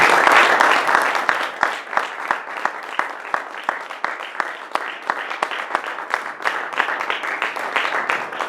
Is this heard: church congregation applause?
yes